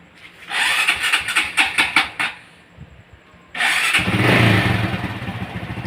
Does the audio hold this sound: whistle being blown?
no